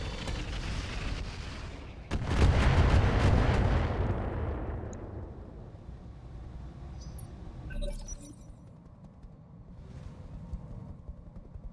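Weapon fire strikes a mech in the Roguetech game: a sharp blast sets off a heavy rumbling roar that slowly fades, followed later by a smaller metallic crack and faint clinks.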